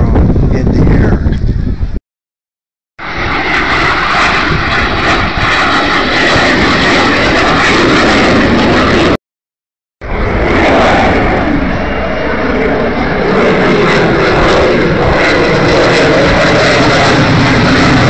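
A fixed-wing aircraft at an air show, not the Blue Angels, roars loud and continuous overhead with heavy wind rumble, cut by two brief dropouts.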